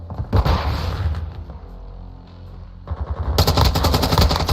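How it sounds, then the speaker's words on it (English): Loud gunfire and a bang sound close in Call of Duty MW2 as a flash grenade is thrown, with rapid shots both before and after the burst. "Throwing flash grenade."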